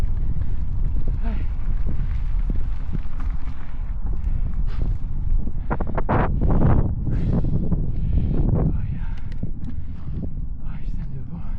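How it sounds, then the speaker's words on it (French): Heavy wind buffets an outdoor microphone near a motorway bridge south of Hamar, Norway, as a constant loud low rumble with gusty peaks throughout. "Putain de vent."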